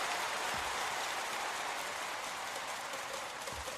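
Steady applause and crowd noise fill a basketball arena during a Utsunomiya Brex playoff game after a made free throw, sounding as a dense, even wash with no break.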